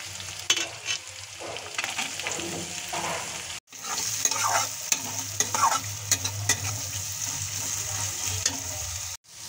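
Chopped onion with chili and garlic frying in a pan, a loud continuous sizzle with repeated scraping stirs and clatter, briefly cut off partway through and then resuming.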